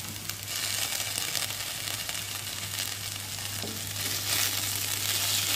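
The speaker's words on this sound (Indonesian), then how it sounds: "kita masukkan tempe, kita aduk biar merata. Terus kita masukkan tauconya," Tempeh and tauco are stirred in a frying pan, giving a steady sizzling fry with a soft scrape of stirring that grows slightly louder toward the end, and no talking.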